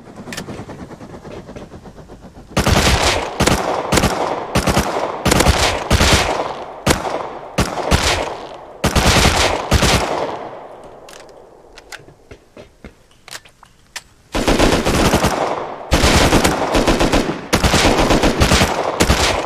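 Bots trading gunfire in the survival game Rust, loud sustained bursts of automatic fire that stop for a few seconds and then break out again in rapid volleys, with no talking.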